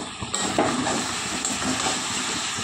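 Country chicken meat sautéing in a pan, a soft steady sizzle with occasional stirring scrapes, fairly quiet and close, with no voices over it.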